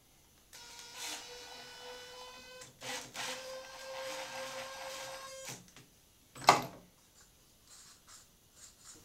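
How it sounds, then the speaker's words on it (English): A power driver runs a 1 1/2 inch screw into wood while building a chisel and plane blade sharpening jig: a steady rising whine for several seconds, a short pause, then a second longer whine, and a sharp clack near the end. "I can slip part A between part B1 and B2 and drive the 1 1/2 inch screws in."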